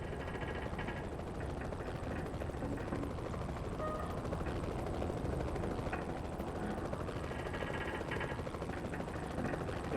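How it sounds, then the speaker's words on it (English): A helicopter hovers in front of an entrance in the video game X2: Wolverine's Revenge, with a steady, dense whirring drone that runs unbroken and fairly quiet throughout. "It's that helicopter's just hovering in front of the entrance."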